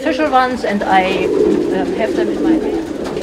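Pigeons coo at a nest near a railway station, soft repeated rolling calls close by, with a person speaking over them throughout.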